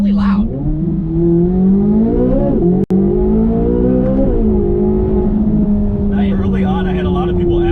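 Stock 2024 Chevrolet Corvette Z06 flat-plane V8 revving hard up and down in a loud, close, sustained snarl with a brief cut partway, and a voice speaks near the end.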